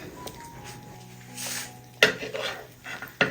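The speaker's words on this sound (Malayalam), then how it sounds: "ഒന്ന് ഇളക്കി കൊടുക്കാം" A spoon stirs sugarless payasam with lotus seeds, roasted cashews and raisins in a pot. Soft scraping and low stirring are broken by two sharp metallic clinks against the vessel, close and without speech.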